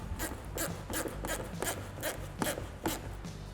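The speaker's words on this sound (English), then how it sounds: "We'll tighten this bolt down." A bolt is tightened down with a ratcheting tool, a quick series of about eight close rasping clicks at an even rhythm, fairly quiet and with no voice.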